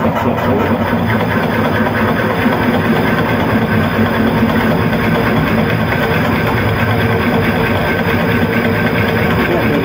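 A drill bores a hole in wood for a four poster bed at 275 RPM, giving a loud, steady mechanical drone that holds unchanged for the whole stretch with no break; no one speaks.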